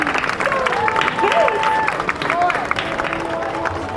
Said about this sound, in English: One more round of applause for our visiting guests, everyone.